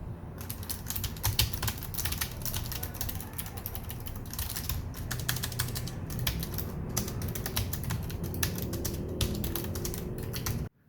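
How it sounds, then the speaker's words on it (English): Continuous mechanical keyboard typing on a Gigabyte Aorus 15G gaming laptop, dense rapid clicks and clacks close up, steady for about ten seconds with no voices. "The mechanical keyboard is very satisfying to type and game on and makes a satisfying clicking sound when typing"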